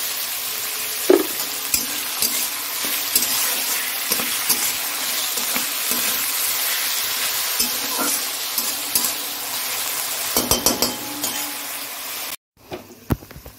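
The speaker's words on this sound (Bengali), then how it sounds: "নুন দিয়ে ভালো করে ঢেকে ঢেকে ভাজা করবো" Cooked rice with salt sizzling in a pan, a continuous dense frying crackle broken by spatula scrapes and metallic clinks, close and steady, ending with a brief pause then a few more stirs.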